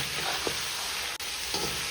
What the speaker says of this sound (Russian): И все хорошенечко перемешиваем.